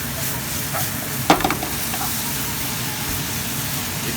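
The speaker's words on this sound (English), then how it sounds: "we're just gonna stir that in." Vegetables for shrimp fajitas sizzle steadily in a pan, with a soft hiss throughout and a brief utensil scrape or clatter partway through. No one speaks.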